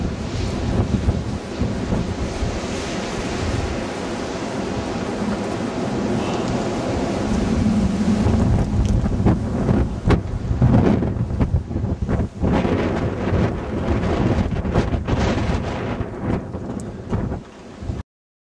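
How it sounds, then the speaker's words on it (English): Strong wind roars and gusts through a winter storm with blowing and drifting snow, buffeting the microphone in a loud, continuous rush that swells and fluctuates throughout. "visibility is dropping again down there with a lot of this blowing and drifting of snow"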